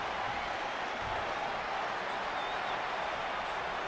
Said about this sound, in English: And now here come the Iconics, pouring it on in front of their home crowd